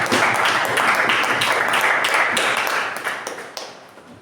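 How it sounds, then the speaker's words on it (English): Attendees at a Toastmasters club meeting give a hearty round of applause: dense clapping from many people that thins out and fades over the last second or so, ending in a few scattered claps. "So let's give a huge round of applause."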